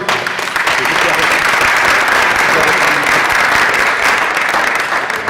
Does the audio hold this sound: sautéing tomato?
no